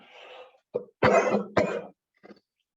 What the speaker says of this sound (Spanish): me está dando el ataque de tos